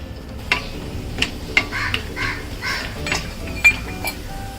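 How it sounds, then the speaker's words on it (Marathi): Asafoetida fries in a little oil in a wok with a soft, steady sizzle, broken by a few light clinks of a spoon against the metal pan. "मी थोडंसं आता कढईमध्ये तेल घेतलेलं आहे त्यामध्ये आता हिंग थोडासा तळून घेते"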